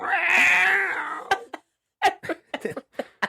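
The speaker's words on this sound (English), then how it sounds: "Oh, there's a cat. Meow." A cat lets out a long, drawn-out meow, followed by a series of shorter, choppy cat calls close by.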